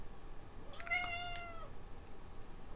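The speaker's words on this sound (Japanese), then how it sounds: "今の鳴き声はゲーム内の猫じゃなくて、あのリアルの僕の家の猫ですね" A real house cat gives one clear meow, rising then falling, around the middle, set against a faint background hum with no talking.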